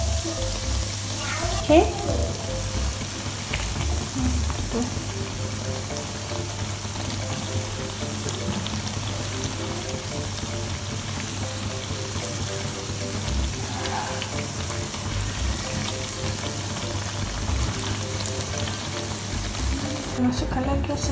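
Donut dough sizzling as it fries in hot oil, a steady crackling hiss that holds throughout with occasional louder spatters and utensil clinks, while someone talks briefly over it.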